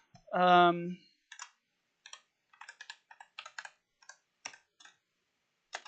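Computer keyboard typing in short irregular bursts of clicks, close and fairly quiet, following a brief sung or voiced tone at the start; clicks come in small clusters with gaps between them.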